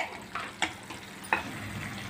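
Potato and pea curry being stirred in a wok (kadhai), a few scraping clinks of a spoon at irregular moments over a soft steady sizzle, close and fairly quiet.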